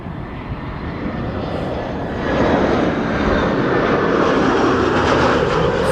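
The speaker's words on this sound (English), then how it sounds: "This is Lufti flight 988 arriving from Frankfurt" Narrow-body jet arriving from Frankfurt and landing at Amsterdam Schiphol, heard up close as a loud broadband engine roar that swells partway through and stays heavy to the end, with no voices.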